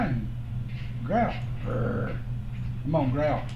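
A dog gives low growls and whimpering vocalizations in short bursts, close by, with a person's voice alongside in a quiet indoor setting.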